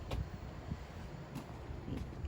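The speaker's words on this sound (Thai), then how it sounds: "นี่ค่ะทุกคนลมแรงมากค่ะนี่" Strong wind in an outdoor garden rumbles and buffets the microphone in a continuous low, rough wash, with faint gusty swells and no voices.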